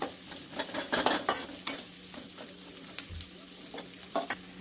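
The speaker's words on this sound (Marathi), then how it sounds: "पहिली हिरवी मिरची आणि लसूण ते तेजल्याला तळून घ्यायचा" Green chillies and garlic frying in oil for a fresh chickpea chutney, a soft, fairly quiet sizzle with several sharp stirring scrapes and clinks against the pan.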